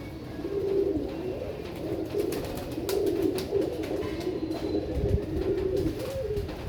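Pigeons coo softly and repeatedly nearby, a low murmuring warble rising and falling with some fluttering and scuffling noises.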